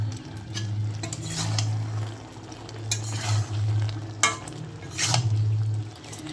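Ground five-spice and radhuni being stirred into shukto in a pan, with a steady scraping, clinking stir and low cooking hum, close and moderately loud, with no talk.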